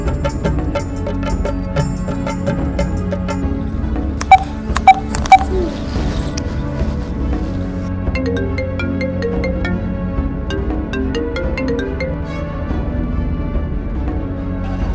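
A phone makes a few quick dialing beeps, followed by a steady electronic ringtone melody that plays continuously and fairly loudly in a Marwari Rajasthani comedy sketch.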